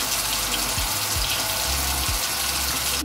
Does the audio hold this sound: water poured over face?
yes